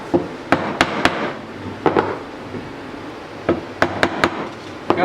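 Sharp chisel strikes cutting rabbet corners into wood, landing as isolated hits and quick clusters of two or three, loud and close against a quiet workshop background.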